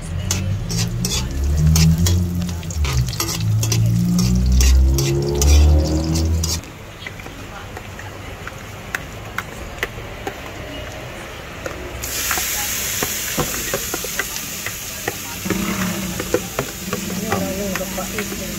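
Onions sizzle in a pan with a steady frying hiss, scraped and stirred by a utensil, while a voice talks over it.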